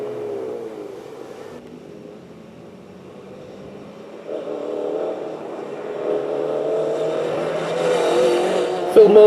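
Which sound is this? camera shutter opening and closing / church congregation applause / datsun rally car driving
datsun rally car driving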